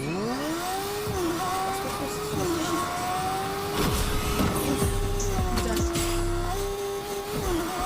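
A vehicle engine in Fortnite hums at a steady drone that rises and falls in pitch as it revs, with thumps and game noise around it and a player talking over the top.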